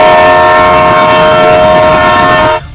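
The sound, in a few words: train approaching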